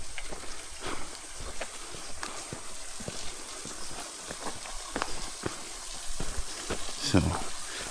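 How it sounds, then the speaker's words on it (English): A waterfall along the Indian Rock House Nature Trail in Arkansas gives a steady, broad rushing hiss throughout, with crunching footsteps and brief knocks on top. "as you can hear, we came to a waterfall"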